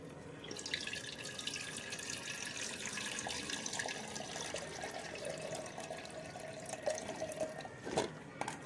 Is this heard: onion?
no